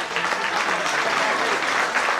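Audience at a Greek folk dance association event applauds the dancing children, a dense, steady burst of many hands clapping close by that lasts throughout, with no talk over it.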